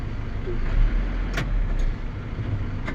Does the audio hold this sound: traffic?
yes